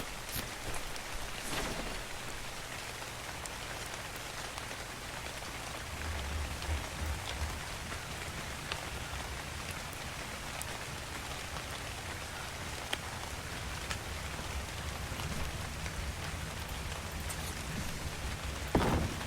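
Steady rain from the video game Ark: Survival Evolved, a constant hiss of falling drops with a faint low rumble beneath, heard alone and unbroken throughout.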